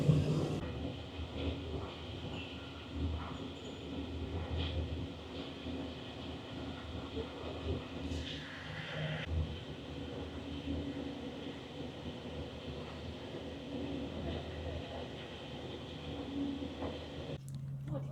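A passenger train on the way to Budapest rolls to a stop at Balaton station. A steady rumble and clatter of the carriages carries on throughout, with a faint mechanical whine and brief knocks. Quiet voices can be heard softly in the background.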